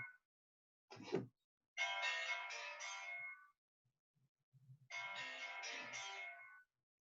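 A mobile phone rings near a computer during an online physics class, two bursts of a bright electronic ringtone melody separated by a pause, with faint soft knocks between them.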